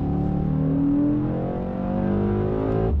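A Mercedes-AMG E63 S with its 612 hp engine growls steadily while accelerating, a continuous loud rising drone heard from inside the cabin with no talk.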